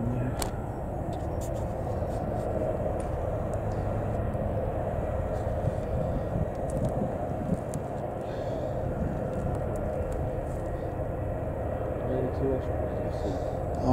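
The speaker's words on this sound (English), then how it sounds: "helicopters are going south down there" Helicopters and an MV-22 Osprey flying past, a continuous distant low rumble of rotors and engines that holds steady throughout, fairly faint and outdoors.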